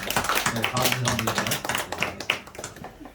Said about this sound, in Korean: 우리 박수로 환영해 주십시오